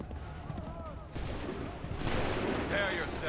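A musket volley crackles in Assassin's Creed 3 as a dense burst of distant gunfire rising over a rumbling battlefield, with voices shouting through it.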